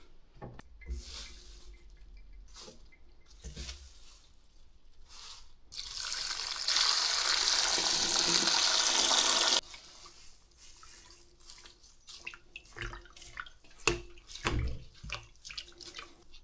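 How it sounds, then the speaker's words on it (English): Stinging nettles and wild garlic are rinsed under a running tap, a steady close gush lasting several seconds, framed by scattered handling clunks and drips before and after. "So the first thing to do is to give these a wash."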